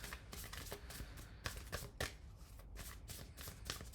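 Oracle moon cards being shuffled by hand in a steady run of dense papery riffles and soft slaps, close and continuous with no talking.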